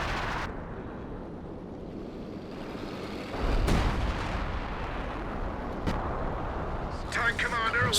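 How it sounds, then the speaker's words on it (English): Infantry support gun booms and artillery blasts in Company of Heroes 2 rumble under continuous game noise, with a sharper report midway and a commentator talking over the action. "So we've got the D crew on the infantry support gun."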